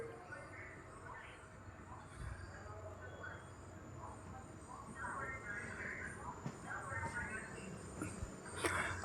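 Passenger train running from Bathinda to Sri Ganganagar through rural Punjab, moving slowly with a low continuous rumble and faint wheel clatter, while voices talk over it at moderate distance.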